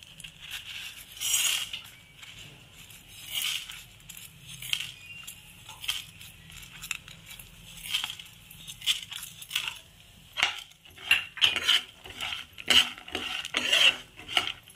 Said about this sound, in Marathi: चण्याची डाळ पण मी जरा खरपूस भाजून घेत आहे।